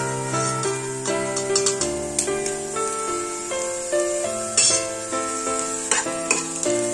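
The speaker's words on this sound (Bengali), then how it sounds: "একটু ভেজে নেবো হলুদটা, না তো গন্ধ বেরোবে কাঁচা।" Turmeric is fried with carrots in a pan, a continuous close sizzle broken by repeated spatula stirring and scraping strokes.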